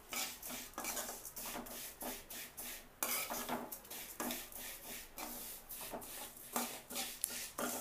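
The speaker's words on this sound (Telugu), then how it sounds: "మీడియం ఫ్లేమ్లో పెట్టి వేయించుకుంటే చక్కగా వచ్చేస్తాయి." Vermicelli roasts on medium flame while a utensil scrapes and clinks against the pan, quiet repeated stirring strokes in an irregular rhythm with no talk.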